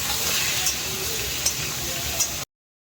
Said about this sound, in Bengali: হলুদ দিয়ে দেবো, দিয়ে আর একটু লাল করে ভেজে নেবো।